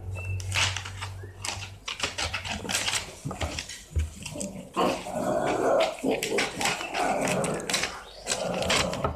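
A dog barks and growls in repeated bursts, close and fairly loud, with some scuffling and mechanical rattling noises mixed in.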